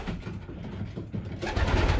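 Pigeons in a loft give soft low coos, faint and muffled, with a burst of rustling or flapping near the end.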